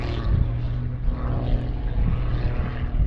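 Pitts Special aerobatic biplane, a heavily modified example with carbon cowling and titanium sprung gear, performing aerobatics at Southport Airshow 2022: a steady, loud propeller and engine drone that holds throughout with slight swells, no talk.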